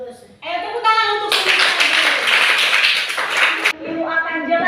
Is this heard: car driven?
no